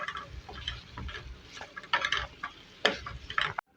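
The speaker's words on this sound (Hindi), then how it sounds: "इसको मिक्स करेंगे।" A spoon stirs roasted, ground coriander into mutton karahi in a pot, giving close, intermittent scrapes and light clinks in uneven bursts, with no talking.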